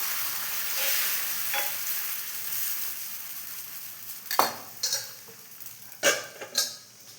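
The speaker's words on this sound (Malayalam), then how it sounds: "നമുക്ക് ദോശയെല്ലാം ചുട്ട് വെക്കാം" Steady hiss of dosa batter sizzling on a hot griddle, with a few sharp scraping and tapping clicks of a spatula toward the end.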